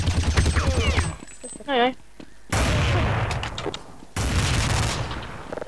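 Rapid bursts of pistol gunfire in a Counter-Strike match, loud and close, in several volleys separated by short gaps, with agitated shouting voices talking over the shots.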